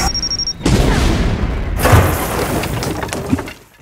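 A loud explosion in a movie trailer erupts with a sharp blast, then rumbles and crashes on with debris for several seconds before fading out.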